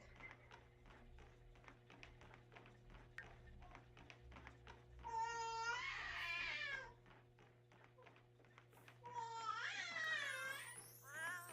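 A cat in The Sims 4 video game meows for attention in two drawn-out, wavering cries over a quiet background of soft taps and low game hum.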